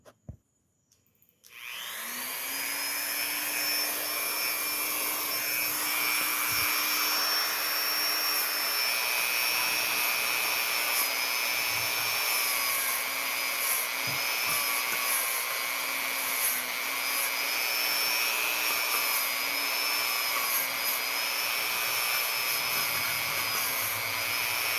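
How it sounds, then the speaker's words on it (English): A Dremel rotary tool fitted with a soft wire wheel starts up and runs as a steady high-pitched whine for over twenty seconds while cleaning the distributor contacts of a Ford pickup, close and continuous with no talking. "I'm going to go ahead and try to clean these with the Dremel"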